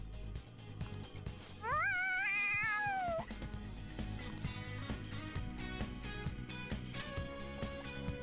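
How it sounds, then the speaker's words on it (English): One loud, drawn-out meow from an excited cat, rising and then falling over about two seconds, stands out close against a busy background of music and other noise. "The cat's acting awfully excited."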